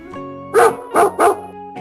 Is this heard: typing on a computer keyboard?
no